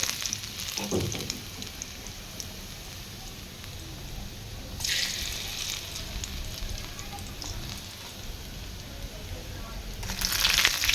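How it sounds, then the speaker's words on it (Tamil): Minced garlic, dried red chilies and a handful of curry leaves sizzle steadily in hot oil for dal, with a few louder crackling bursts rising out of the constant frying hiss. "பொடிசாக நறுக்கின ஒரு பத்து பல் பூண்டு ஒரு நாலு வரமிளகாய் ஒரு கைப்பிடி அளவுக்கு கருவேப்பிலை இது எல்லாத்தையுமே இதில் சேர்த்து நல்லா வந்துட்டு பொரிய விட போகிறோம்"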